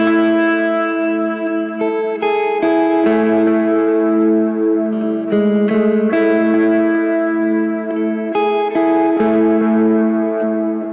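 A clean electric guitar riff played on the neck pickup with reverb, from a worship song lead part; sustained melodic notes ring out loud and alone, with chord changes and a wet, spacious tail.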